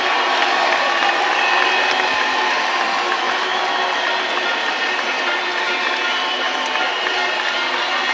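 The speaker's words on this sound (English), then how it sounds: "And you can hear the crowd." Crowd at a judo world championship arena applauding after a match win, a steady broad wash of clapping and cheering that stays loud and even throughout.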